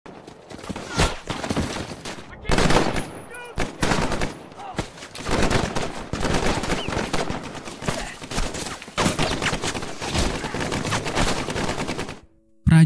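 Gunfire from American troops in a Pacific war film, loud bursts of rifle and machine-gun fire in uneven volleys throughout, with a narrator's voice running over it.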